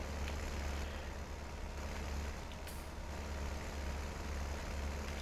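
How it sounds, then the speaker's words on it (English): A tractor driving in the video game Farming Simulator 19, a steady low engine drone that holds at an even level, heard alone and moderately quiet. "Crazy man driving the tractor."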